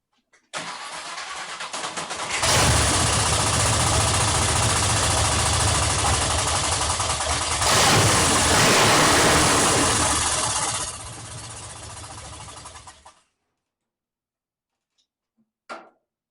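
A hotrod engine running on old, stale gas cranks and catches, then roars loud and rough close by and revs up once before settling lower. It shuts off abruptly, followed by near silence and one short clunk.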